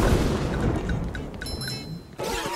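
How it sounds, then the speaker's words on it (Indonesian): Explosions in a SpongeBob SquarePants video game: a run of muffled booms and crackling blasts, fairly loud, followed by a sharper burst near the end, with no speech. "Ayo meledak. Ah, meledak."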